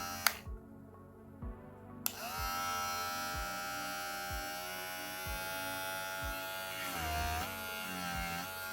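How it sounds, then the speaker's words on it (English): A Kemei electric hair clipper with a full metal body runs steadily, giving a continuous buzzing motor drone with a faint rhythmic ticking underneath, up close and alone after a short quiet start. "So it's not a fast clipper."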